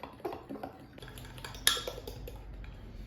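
Lemon glaze of powdered sugar and vanilla being stirred in a bowl, giving soft, faint scraping with a sharp spoon-on-bowl clink partway through, no talking.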